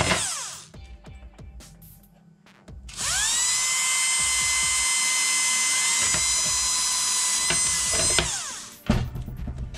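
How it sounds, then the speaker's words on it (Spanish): A power drill whines at high pitch for several seconds, steady and loud, boring holes in a plastic PS4 Pro cover, with short bursts and clicks of handling before and after. "con nuestro taladro ya preparado, empezaremos a hacer los orificios que hemos marcado anteriormente"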